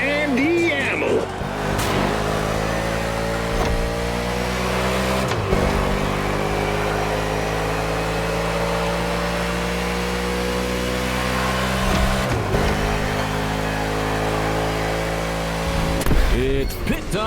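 A NASCAR race car engine in The Crew Motorfest, a sustained loud drone climbing steadily in pitch as it accelerates through long gear pulls, broken by a few sharp shifts, with a spoken voice over it.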